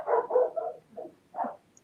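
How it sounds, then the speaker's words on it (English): A dog barking in the background, a few short muffled barks in quick succession followed by one more after a brief pause. "I can hear a dog in the background"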